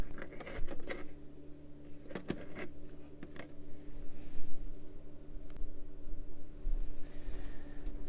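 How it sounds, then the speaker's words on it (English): Small scissors snipping out a yellow cherry tomato seedling in an Aerogarden indoor growing setup, giving a few quiet, sharp clicks and snips scattered over a soft background hum. "I'm just going to cut one out right now."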